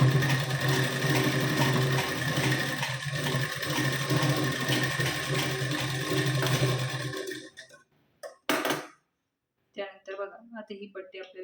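A sewing machine runs steadily for about seven seconds while stitching a blouse, a loud continuous mechanical whir that then stops, followed by a few short spoken phrases.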